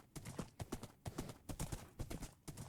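Horse hooves clip-clop at a steady walking rhythm, close and clear, on a journey near jungle and water crossings.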